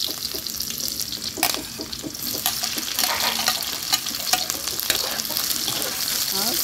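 Garlic and tomato sautéing in a pan for ampalaya with egg, a continuous loud sizzle broken by scraping stirs and a few sharper clatters, with no one speaking.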